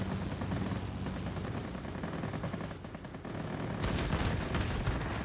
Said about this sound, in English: Getting these guns on target